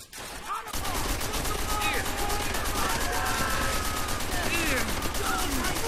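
Sustained machine gun fire in the video game Call of Duty World at War, a dense continuous burst of rapid shots starting after a brief quiet opening and running loud to the end, with battle shouts mixed in.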